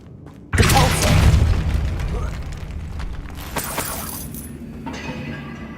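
A Depulso spell cast in Hogwarts Legacy: a sudden loud burst with a booming, crashing impact that slowly rumbles away, followed by a scattered clatter and a second, quieter crash; a voice can be heard faintly under the effects.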